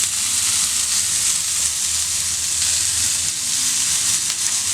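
Chicken tikka fries on a dosa griddle over a gas stove, giving a loud, continuous close-up sizzle and hiss with a low burner rumble underneath and no speech.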